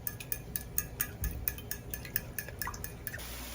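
Three eggs beaten in a bowl, a quick run of light clicking whisk or fork strokes against the dish, fairly close and steady, with no talking.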